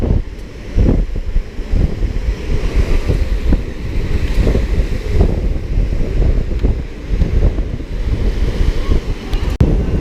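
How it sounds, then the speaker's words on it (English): Strong wind roars steadily across the open rear deck of the Royal Caribbean cruise ship Allure of the Seas, a loud, constant rush buffeting the microphone with no break. "It's pretty windy"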